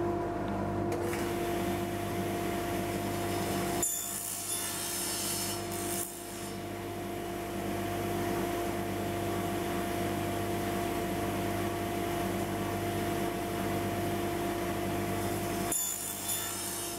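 A table saw cuts a dado in wood for a coin-sorting money box. The blade whines steadily and loudly for about seventeen seconds, with brief changes in tone near the start and end as the workpiece feeds through.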